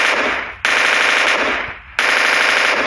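Loud machine gun fire from the mobile battle royale game PUBG Mobile Lite: two long sustained automatic bursts with a brief gap between them, close and dense, with no talking.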